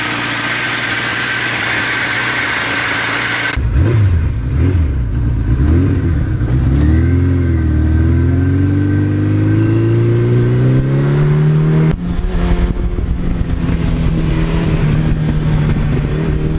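A 1982 Suzuki GS1100E motorcycle engine idles, then revs up repeatedly with climbing and falling pitch, loud and close, settling into a sustained higher drone.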